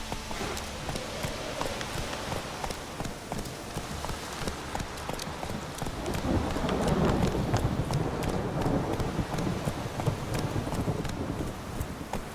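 Hooves of Roach, a horse galloping in The Witcher 3, drum in a steady rapid rhythm under a constant wash of rain, swelling louder midway.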